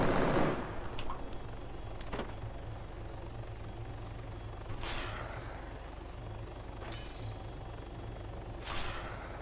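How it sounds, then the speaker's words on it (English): Short bursts of gunfire in Arma 3 crackle out about five times at irregular intervals, each ringing briefly over the constant drone of a helicopter's rotor and engine. "Permission to open fire?"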